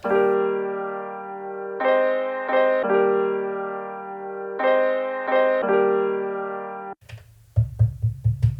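A sustained, pitched-up melodic sample of layered tones on an MPC One sampler changes chords every few seconds, then a few sharp percussive hits enter near the end.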